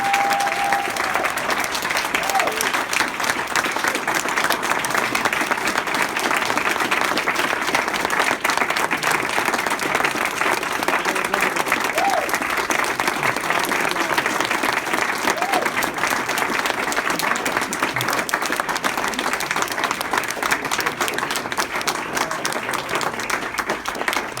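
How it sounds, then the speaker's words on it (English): Sustained loud audience applause for poets standing before the crowd at a poetry event, steady dense clapping filling the whole stretch without pause. "let's give them some more claps"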